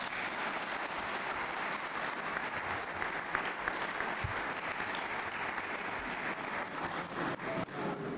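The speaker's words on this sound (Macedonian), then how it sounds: "Ајде еден аплауз." Applause from the rally audience in Kavadarci fills the whole stretch as a dense, steady wash of clapping that stays even from start to finish, with nobody talking over it.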